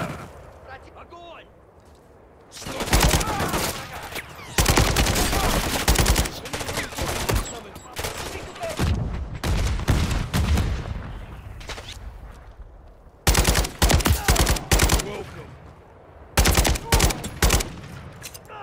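Gunfire in the video game Call of Duty: Modern Warfare III, with loud bursts of rapid automatic fire and heavy blasts coming in clustered volleys between quieter stretches, under occasional speech.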